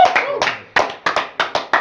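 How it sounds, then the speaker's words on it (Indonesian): A small audience clapping hands in a few uneven bursts at a casual indoor talk event, the claps sharp and close with quick decays between them. "tepuk tangan dulu."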